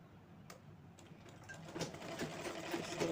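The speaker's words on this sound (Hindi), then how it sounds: "इस तरह से सिलाई लगा देनी है।" A sewing machine stitches a handmade bag, a faint, rapid mechanical ticking and whirring that grows gradually louder toward the end, with no talk.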